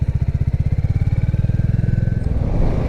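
A 2022 Royal Enfield Classic 350 single-cylinder engine thumps with a rapid, even pulsing beat, close and loud, building slightly as it accelerates near the end.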